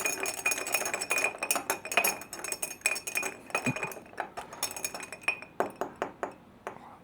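A spoon stirring a whiskey cocktail over a clear ice ball in a glass, bright clinking taps in a quick irregular rhythm, close up and alone.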